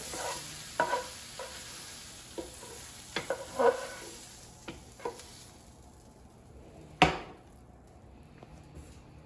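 Soft sizzling underneath scattered clinks and scrapes of a utensil against a frying pan as zucchini and squash are taken off, ending with one louder knock; no talking.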